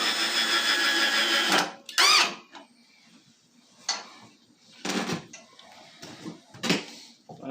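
Cordless drill whirs loudly for a couple of seconds, then gives several shorter bursts separated by pauses with faint squeaks and handling noises.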